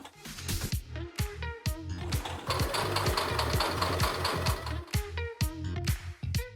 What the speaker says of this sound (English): Can it sew through 8 layers of denim?